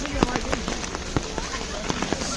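Rain falling at Guna Cave in Kodaikanal, a steady wet hiss dotted with sharp irregular patters and drips close by, with faint voices underneath.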